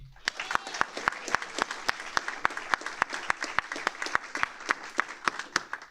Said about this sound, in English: One more round of applause for the amazing airmen and their diligence to success.